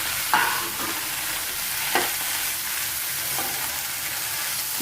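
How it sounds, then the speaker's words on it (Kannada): Grated coconut frying in a pan for doddapatre tambuli, a steady close hiss with a few scraping stirs, moderately loud and without any talking. "ಈಗ ಕಾಯಿ ತುರಿನ ಹಾಕೊಂಡು ಸ್ವಲ್ಪ ಹುರ್ಕೋತಾ ಇದ್ದೀನಿ"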